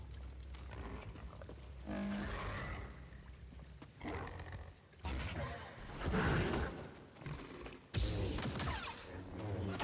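A goat creature on the planet Zeffo in Star Wars Jedi: Fallen Order, giving several rough grunting, bleating calls in bursts over a rumbling game ambience.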